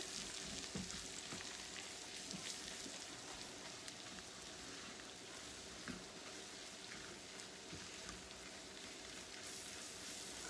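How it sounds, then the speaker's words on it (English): A fat and flour roux bubbles quietly in a pan, a faint, even crackling patter like light rain, steady throughout with occasional small pops and no speech. "you can still see the fat or the grease bubbling up on the side"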